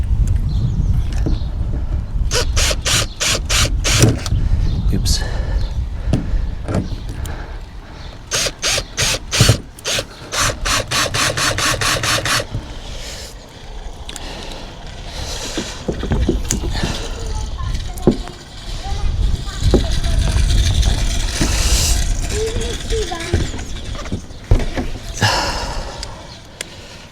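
Screws being started while solar equipment is installed on a campervan: rapid ratcheting bursts from a hand tool, then scattered clanks and handling noises, with a person talking in between.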